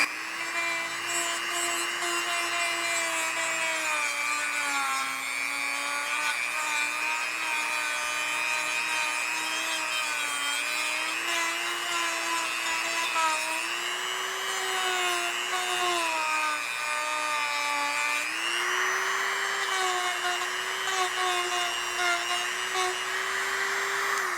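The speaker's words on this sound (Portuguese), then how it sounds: "Vai desbastar a madeira aqui rapidinho." A Hanabi 135W rotary tool grinds down a piece of wood. A continuous high-pitched motor whine lasts over twenty seconds, and its pitch wavers up and down as the bit presses into the workpiece.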